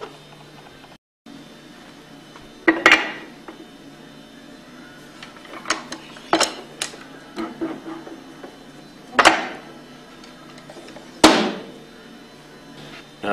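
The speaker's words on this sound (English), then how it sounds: "And now we're ready to press it apart." A Hypro roller pump housing is pressed apart, producing several sharp metallic knocks and clanks spaced a few seconds apart, with lighter clicks and scraping in between, close by.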